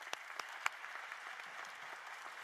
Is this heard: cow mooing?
no